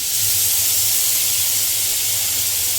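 Ground mustard paste with green chili, dried chili, ginger, garlic and onion hitting hot oil after frying hilsa, a loud, constant, close hiss of sizzling with no pauses.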